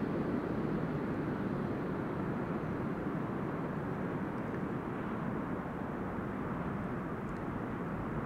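An airliner arriving at the airport gives off a continuous, broad jet-engine roar, steady and fairly distant, with no clear voices.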